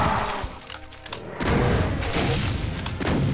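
Weapon fire in Doom 2, Plutonia 2 MAP08, loud booming shots at the start then a dense run of blasts and crashes, close and forceful, with no talk over it.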